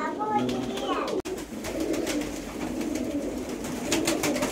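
Pigeons at a rooftop loft coo in soft, repeated low calls while someone talks over them.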